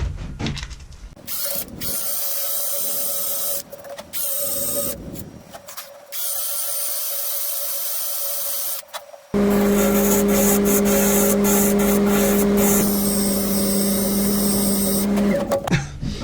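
Maple end-grain bowl being sanded on a spinning wood lathe, a steady loud mechanical whir with a pitch change partway through as the motor hum shifts, continuous and close with brief scraping interruptions.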